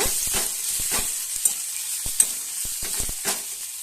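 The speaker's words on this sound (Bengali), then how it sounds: "কালো জিরে আর শুকনো লঙ্কার ফোড়ন হিসেবে আমি দিয়ে দিচ্ছি" Oil sizzles steadily with a constant hiss, broken by scattered sharp crackles and pops from nigella seeds and dried red chillies frying in a pan.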